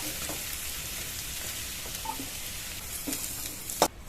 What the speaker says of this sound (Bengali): ডাঁটাগুলো দিয়ে আরো 2-3 মিনিট ভেজে নিয়েছি